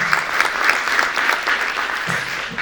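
Audience applause at a round-table event on commercial real estate and the environmental transition, a steady dense patter of many hands clapping close by, with no talk over it.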